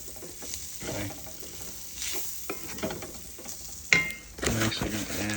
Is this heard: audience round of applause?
no